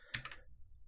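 A few quick, faint keystrokes tapped on a computer keyboard, a short cluster of soft clicks, then quiet.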